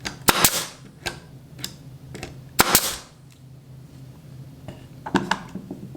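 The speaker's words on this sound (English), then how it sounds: "Can't shoot any nails out of this unless I push it down and then actually pull the trigger." A WEN 61721 brad nailer firing brads into wood, several sharp, loud pneumatic snaps spread irregularly across the stretch with quieter clicks and handling noises between them.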